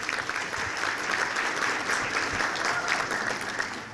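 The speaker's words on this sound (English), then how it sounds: "That's a round of applause for him." Guests at a chamber of commerce breakfast give the pianist a dense, sustained round of applause, an even wash of clapping from the whole room for several seconds.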